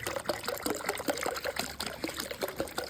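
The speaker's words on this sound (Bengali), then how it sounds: "এই 2 লিটার জল ঢেলে দেবো" Water is poured out for chickens from a two-litre container, a close, continuous trickling and splashing stream that runs steadily and fairly quietly, with no talking.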